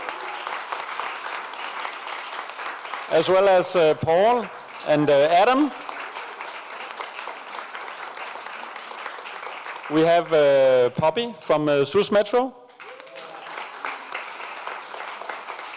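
A conference audience applauds with broad, steady clapping that runs under a speaker's amplified voice, swelling between the speaker's sentences.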